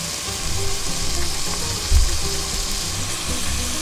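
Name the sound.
oil sizzling in pan on electric stove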